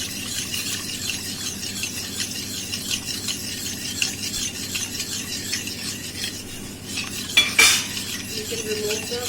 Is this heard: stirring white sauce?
yes